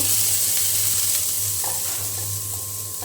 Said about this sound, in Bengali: সরিষার তেল দিয়ে মরিচ ভেজে নিচ্ছে